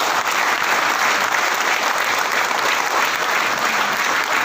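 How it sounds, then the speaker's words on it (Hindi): An audience in a seminar hall at Kumar Bhaskar Natya Mandir bursts into loud, sustained applause, dense clapping from many hands throughout, close and energetic. "तो मैं चाहूँगा एक जोरदार ताली होनी चाहिए अपने परिवार के लिए।"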